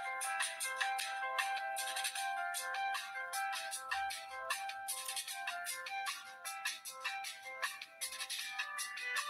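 An electronic ringtone on a telephone signals an incoming call, a continuous bright melodic warble repeating steadily for several seconds, clear and unaccompanied by speech.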